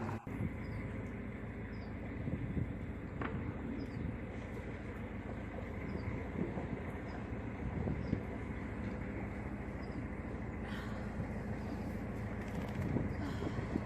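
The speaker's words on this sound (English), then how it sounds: "the sound of the engine and the sound of nature" A boat engine drones steadily at close range through a shady cruise, with faint outdoor nature ambience and occasional small knocks layered over the continuous low hum.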